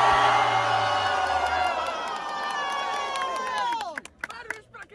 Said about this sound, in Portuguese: Barulhos, barulhos pra quem gostou das rimas do Barreto.